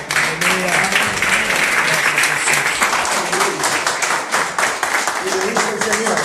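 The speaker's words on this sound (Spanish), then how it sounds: "Da un aplauso al Señor." A church congregation at a Uruguayan worship service breaks into loud, sustained applause, dense clapping filling the room with some voices and cheers mixed in.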